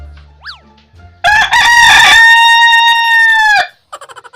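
A loud rooster crows once, close by, a long sustained call after a couple of brief clucks, followed by a few quick clucking notes.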